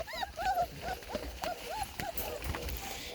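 Several penned-up dogs whining in high, wavering cries close by, repeated in short bursts over shuffling and thumping noises.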